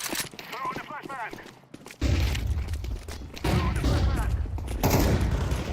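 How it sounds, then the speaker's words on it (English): A flashbang grenade goes off in a first-person shooter video game, a loud, sudden burst that gives way to sustained, noisy clatter after a stretch of talking. "Throwing a flashbang"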